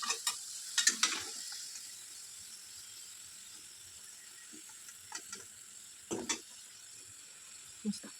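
Modak dumplings stuffed with fresh coconut filling fry in hot oil, giving a low steady sizzle with scattered sharp clatters and bursts, likely from a utensil lifting them out.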